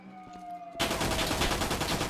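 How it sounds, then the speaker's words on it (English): Sustained automatic gunfire erupts abruptly and loudly after a brief stretch of quieter ambience with a steady tone, continuing as a dense, rapid burst of shots for the remainder. "We have automatic fire."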